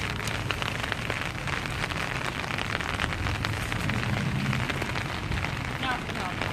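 Steady rain falls outdoors in Hialeah, a dense, constant wash of patter throughout with faint voices underneath.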